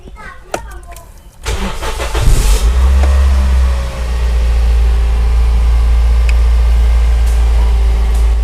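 A 2006 Toyota Vios G facelift cranks and fires up, its starter catching after a couple of seconds before the engine settles into a loud, steady low idle, with a voice heard briefly at the start.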